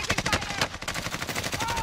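Sustained rapid automatic gunfire in Warzone, loud and dense with overlapping shots near and far, continuing throughout with faint voices mixed underneath.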